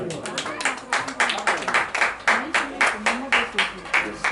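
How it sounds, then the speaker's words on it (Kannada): Audience applause at a felicitation ceremony held by a service trust, heard as steady rhythmic clapping in quick, regular bursts with voices mixed through it. "ಜೋರಾದ ಚಪ್ಪಾಳೆ ಬರ್ಬೇಕಪ್ಪ"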